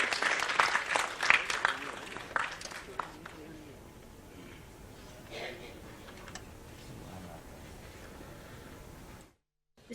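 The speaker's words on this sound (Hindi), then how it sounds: "जोरदार तालियों से अभिनंदन करें" Audience applause at a press club award ceremony in Madhya Pradesh, loud and dense for about three seconds, then thinning into a scattered tail of claps over a murmuring room before it cuts out.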